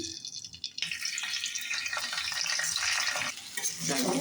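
Spices being stirred into rice and chicken in a frying pan for chicken biryani, a steady close sizzle with scraping stir strokes that starts quietly and grows louder, with no talking.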